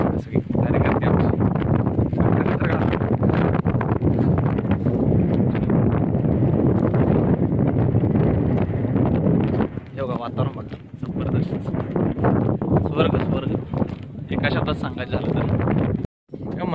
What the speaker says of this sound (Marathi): वाऱ्याचा प्रचंड आवाज येत असल्यामुळे